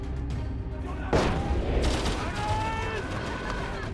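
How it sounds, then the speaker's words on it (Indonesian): Gunfire in a film battle scene with trench fighting, a sudden loud blast followed by a dense barrage of shots and rumbling booms over steady background noise. "Di tengah baku tembak, Peter nekat keluar dari parit meski sempat"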